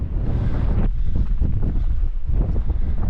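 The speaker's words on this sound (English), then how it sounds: "I think we'll get into the wind now" Strong wind buffets the microphone on a Scottish mountain ridge on the Munro Beinn Ghlas, a loud, constant low roar with gusty surges and no talk.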